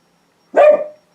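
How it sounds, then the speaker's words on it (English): A single loud, close dog bark, one short sharp burst with a brief tail, heard alone in an otherwise quiet indoor room. "excuse someone barking"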